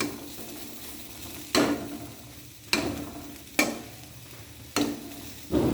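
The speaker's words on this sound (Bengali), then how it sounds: "এগুলো একটু ভেজে নিলাম সাদা তেলে" Potatoes, beans and green chillies fry in white oil with a soft continuous sizzle, punctuated roughly every second by sharp scraping clanks of a spatula stirring in the pan.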